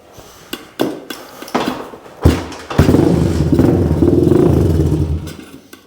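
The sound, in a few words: Honda 200x motorcycle engine struggling to idle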